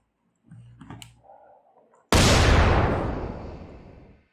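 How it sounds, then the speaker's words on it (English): A single explosion in the game Dying Light bursts suddenly after a few soft clicks and a brief gun-like sound, then a loud, broad blast decays slowly over about two seconds. "Let's do another explosion"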